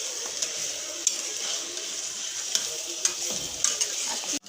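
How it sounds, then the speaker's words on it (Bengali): Chicken for chicken rezala sautéing in a pan with steady, close sizzling and frying, punctuated by several light stirring scrapes and clicks of a utensil; no talking. "এখন খুব সুন্দর করে এটাকে কষিয়ে নিচ্ছি"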